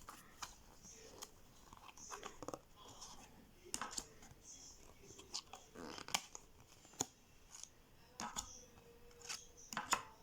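Tarot card deck packaging peeled unstuck at close range, a quiet series of irregular crackling, sticky tearing and small clicks spread over about ten seconds, with faint handling noises between bursts.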